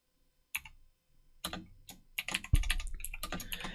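Typing on a computer keyboard: a short burst of quiet clicks, then denser, faster runs of keystrokes, fairly close and with no talk.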